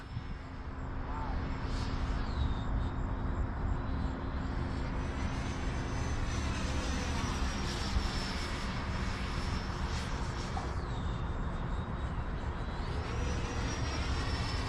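Freewing T-45 Goshawk 90mm electric ducted-fan RC jet at full throttle, a loud sustained whooshing whine rising and falling in pitch as it passes overhead, with voices talking underneath.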